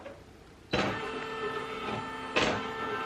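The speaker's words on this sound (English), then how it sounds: "let's turn the machine on" A Brother PE900 embroidery machine powering on and running, with a sudden mechanical whir and clunk, a sustained motor hum with tonal whine, then a second clunk-started surge, close and alone.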